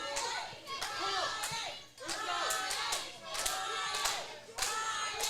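A crowd at a small pro wrestling show claps and shouts in scattered bursts, with loud cheering voices and hand slaps rising and falling over several seconds.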